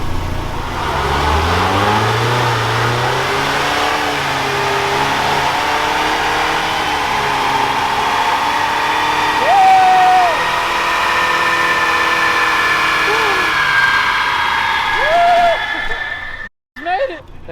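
A small rental car revving on a dyno, its engine climbing steadily in pitch through a long pull before cutting off abruptly near the end, with people talking over it.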